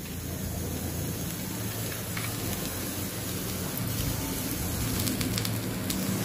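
A thalipeeth flatbread fries in oil on a pan, giving a steady, even crackling sizzle that holds at a constant level throughout.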